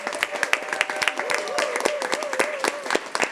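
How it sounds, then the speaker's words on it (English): Audience applauding at a gender-equity gathering, with scattered claps under a prominent tonal voice or whistle-like sound that wavers throughout, moderately loud and close. "And now I need a big applause to Fundación Mujeres and all the organizations here."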